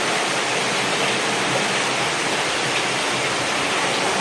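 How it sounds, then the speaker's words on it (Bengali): Rain pouring steadily onto potted plants, a dense, even hiss of falling water that stays constant and fairly loud throughout with no other sounds. "আর আমার গাছগুলোতে কি সুন্দর ভালো পানি পড়তেছে, তো মানে বৃষ্টির পানি তো সব থেকে বেস্ট পানি হয়।"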